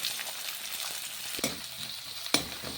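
Onion frying with ginger in hot oil in a pan gives a soft, steady sizzle, broken by two brief stirring knocks against the pan; short and fairly quiet, with no talking.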